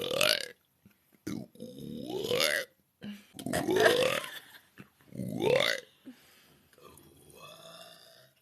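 Several loud, drawn-out burps from women, separated by short pauses, with a quieter belch and some voice near the end.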